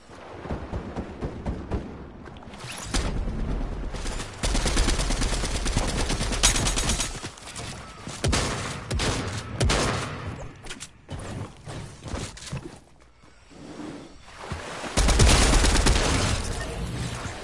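Shotgun and rapid gunfire blasts in a video game firefight, loud dense bursts of shots and booms that come in clusters with brief lulls, rising to a heavy barrage near the end.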